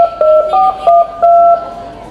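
A phone is dialed with a quick run of about five touch-tone beeps, loud and close, each beep short and evenly spaced.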